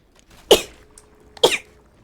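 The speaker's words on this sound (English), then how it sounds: "I sneeze once or I sneeze like 27 times" Two sharp sneezes about a second apart, close and loud, each a quick burst with a breathy tail, in a quiet room during a Dead by Daylight gaming session.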